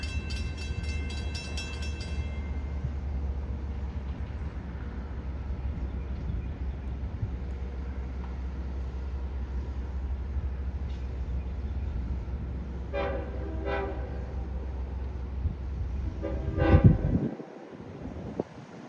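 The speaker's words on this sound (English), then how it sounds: "we'll watch our train arrive and depart." A steady low rumble of an approaching Long Island Rail Road train builds at Speonk, then its horn blares in several bursts near the end, loud and close, before the sound cuts off.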